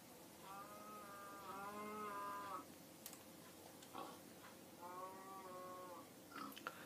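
Cattle in the Minecraft game on PS4 give two drawn-out moos, close and clear with tonal calls, separated by a pause filled with soft clicking ticks and light background noise.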